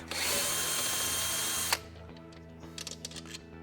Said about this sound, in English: we'll need to remove 2 screws from the back